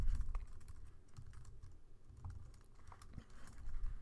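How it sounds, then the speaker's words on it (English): Computer keyboard typing, close and clear, with irregular bursts of key clicks and brief pauses. "My typing is bad, I'm sorry."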